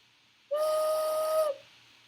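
A handmade clay whistle blown once, a single clear, steady tone lasting about a second with a breathy edge, close and alone.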